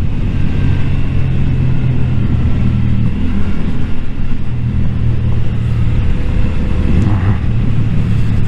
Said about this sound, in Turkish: Şu an yaklaşık bir 5 saattir doğru düzgün durmadan motor kullanıyoruz.